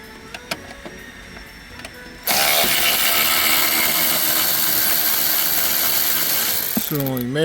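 A ratchet wrench loosens a bolt under a Mini Cooper dashboard during dash removal, with a few scattered clicks followed by a sustained, rapid clicking run, close and loud, ending with a short rising whir.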